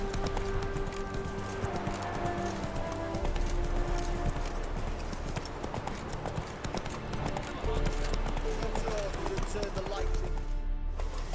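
Roach the horse galloping in the video game The Witcher 3, a steady rapid clip-clop of hooves running throughout, loud and close, with game ambience and voices underneath.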